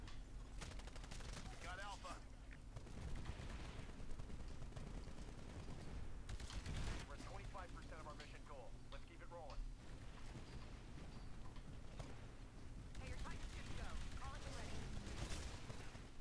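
Rapid bursts of automatic gunfire in the multiplayer video game Titanfall, dense and continuous with heavier volleys at times, under someone talking excitedly throughout.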